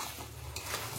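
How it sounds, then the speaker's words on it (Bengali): Chicken and fried potatoes being stirred and sautéed in masala for chicken kosha: a brief, dense burst of sizzling with stirring scrapes, close and fairly loud, no talk. "আলুগুলো দিয়ে আরও কিছুক্ষণ কষাবো।"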